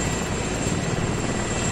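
A helicopter engine in Arma 3 drones steadily and loudly, a dense whirring roar with no break.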